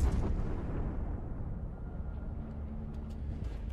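Heavy battleship main-battery gunfire from the Satsuma in World of Warships, a dense roar of deep booms and rumbling blasts that stays loud and sustained throughout.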